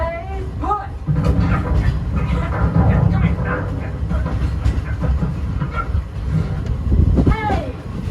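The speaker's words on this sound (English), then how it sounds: "That's not a snake. It's a train." A Walt Disney World Railroad train rolls close by with a loud, rumbling rattle of wheels and cars, while voices talk over it and a whistle-like call rises near the end.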